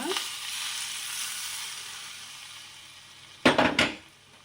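Heated oil poured over paneer tikka sets off a bright, steady sizzle that slowly fades, followed near the end by a few sharp clatters of a pan or utensil close by.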